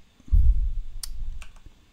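A few sparse, close keystrokes tap on a computer keyboard after a brief low thump, with quiet gaps between each isolated click.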